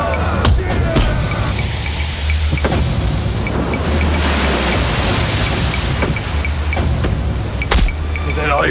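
Surf on a remote beach at night, a continuous wash of waves and wind with periodic sharp thumps and clicks cutting through, fairly loud and close, no talk.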